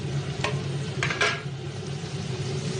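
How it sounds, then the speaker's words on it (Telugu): Cooked-down tomato masala is stirred in a pan for an ice apple curry, with soft scraping spoon strokes over a low steady sizzle, close and brief. "బాగా కలుపుకొని ముందుగా తయారు చేసుకున్న మసాలాలన్నీ వేసుకోవాలి."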